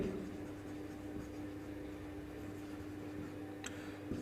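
Chalk or marker scratching as a teacher writes on a board during a physics lecture on measurement error, a faint steady scraping under a low room hum with a small click near the end.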